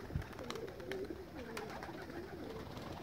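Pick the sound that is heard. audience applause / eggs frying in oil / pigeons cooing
pigeons cooing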